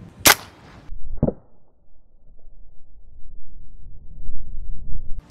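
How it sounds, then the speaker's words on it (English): A single sharp crack of a 40 grain .22 long rifle round fired at a cheap ballistic helmet outdoors, followed by a fainter second report or impact, then wind noise. "one round of 40 grain, 22 long rifle"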